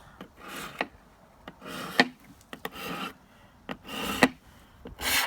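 A 12 inch aluminum ruler is scraped back and forth across a table to sharpen its edge, making loud, close rasping strokes in an uneven rhythm, separated by brief pauses and sharp taps.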